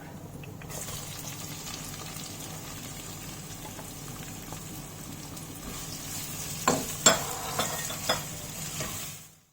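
Soft, steady sizzle of two sliced onions sautéing in oil, with a few louder stirring clatters near the end before it cuts off.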